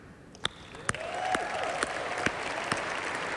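Scattered applause with a handful of sharp, louder claps standing out, over a steady murmur of room noise; no voices.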